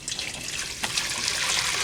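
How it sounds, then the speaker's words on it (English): Water with steeped ginger is poured into a container, a steady broadband splash that thickens and grows a little louder partway through, with no voices. "So then we're going to just dump it in here."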